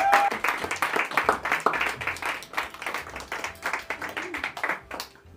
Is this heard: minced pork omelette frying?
no